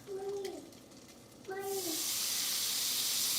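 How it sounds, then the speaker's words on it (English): Melted butter hits a hot pan on the stove for French toast, breaking into a loud, steady sizzling hiss that carries on to the end, preceded by a couple of brief high tonal sounds. "I'm going to let that butter sizzle for a little bit"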